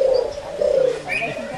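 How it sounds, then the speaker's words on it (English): A turtle dove, a migratory farmland bird, sings its soft purring coo in a few sustained low phrases, with faint chirps from other birds in the background. "The name comes from the much-loved sound of the bird's song."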